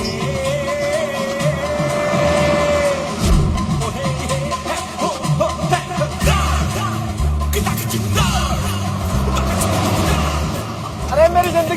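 A truck engine drives along a road, a steady loud low rumble with revving surges throughout, under shouting and talk from people.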